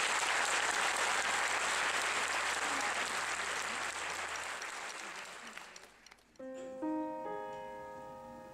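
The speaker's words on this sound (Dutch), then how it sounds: "een heel hartelijk applaus voor iedereen nog één keer" Audience applause fills a concert hall at a school final exam concert in a theatre church, a long dense wash of clapping that fades after several seconds before music begins.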